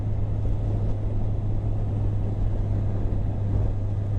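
A Kawasaki Z1000SX motorcycle cruising along a road, heard as a steady, droning engine hum with constant wind rush and a sustained low tone, unchanging throughout.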